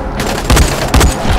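Gunfire in the video game Dying Light: a short burst of loud, close shots with two or three heavy booming hits in quick succession.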